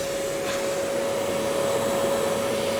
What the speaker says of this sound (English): Get the sucking device.